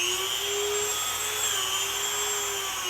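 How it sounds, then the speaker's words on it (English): A Dremel rotary tool fitted with a bristle brush runs at slow speed while cleaning a diecast car, holding a steady, even whine close to the microphone for the whole stretch. "So here we go with the Dremel and the bristle brush."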